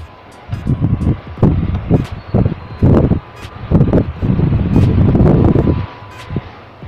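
An LG wall-mounted air conditioner blows gusty air that roars in uneven surges, swelling and fading in bursts like a strong wind, loud and close to the microphone with a steady hum underneath.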